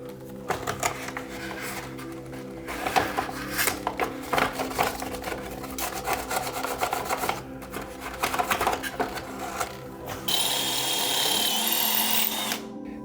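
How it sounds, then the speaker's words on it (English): A power drill whirs in repeated short bursts, close by, drilling holes for a basement railing, then settles into one longer, steady high-pitched run at the end. "That's where I need to drill the holes"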